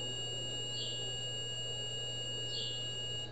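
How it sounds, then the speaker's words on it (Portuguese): A multimeter in continuity mode gives a steady, unbroken beep while probing a shorted laptop motherboard, with a low electrical hum underneath. "Continua bipando dos dois lados, inclusive."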